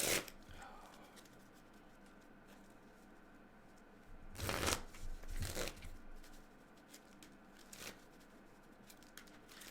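Playing cards riffle-shuffled during a game of Modern, with two loud, bursting riffles close together midway and a fainter, briefer one shortly after, over a quiet room background.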